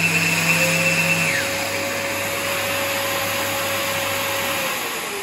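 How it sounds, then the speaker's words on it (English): A Festool Bluetooth shop vacuum starts up automatically alongside a cordless Festool ES-ETSC 125 edge sander, giving a loud steady motor whine that holds for several seconds, with a pitch shift partway through as one machine changes speed. "it also starts my vac"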